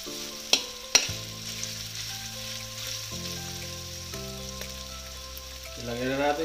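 Garlic and onions fry in a pan for duck adobo, with a soft background sizzle and two sharp knocks early on, while a sustained tonal hum runs throughout.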